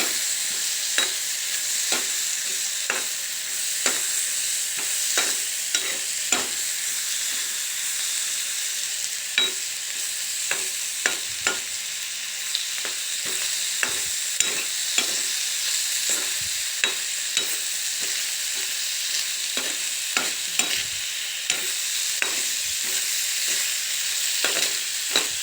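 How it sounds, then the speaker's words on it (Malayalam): A jackfruit mixture fries in a pan with a steady hiss. Frequent scraping clicks from stirring sound over it, close and continuous, with no talking. "അങ്ങനെ ഈ നിറം മാറുന്ന വരെ ഇങ്ങനെ ഇളക്കിക്കൊണ്ടിരിക്കണം."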